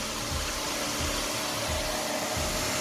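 A vacuum cleaner runs continuously on a floor at home, a steady, loud whooshing motor roar with small dips in the low rumble as it is pushed around, with no one talking.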